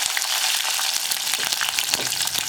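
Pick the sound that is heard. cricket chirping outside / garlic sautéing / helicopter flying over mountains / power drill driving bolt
garlic sautéing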